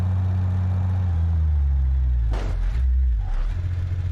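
Porsche 992 Turbo S in the BeamNG.drive video game, a deep engine drone that slowly drops in pitch, then a couple of brief scraping bursts near the end, loud and close.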